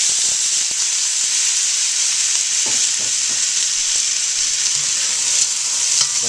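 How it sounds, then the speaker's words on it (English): Vegetables and minced garlic stir-fry in about a tablespoon of oil in a hot wok, giving a loud, steady close-up sizzle with a few soft stirring knocks and no talk. "When you hear that sizzle, you know your wok's hot."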